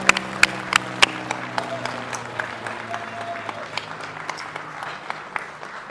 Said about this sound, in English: Let's give a rounding of applause